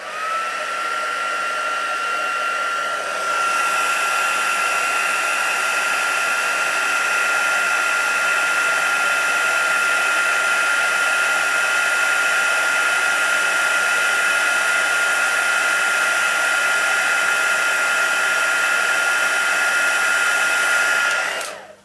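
Steady, loud whir of a heat tool melting embossing powder in a papercraft stamping session, starting after a brief quieter lead-in and running continuously for about twenty seconds before cutting off.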